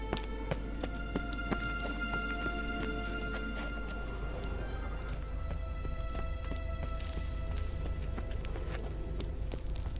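A horse gallops in The Witcher 3 video game, its rapid rhythmic hoofbeats pounding steadily and close for the whole stretch over a constant low background rumble, with no voices.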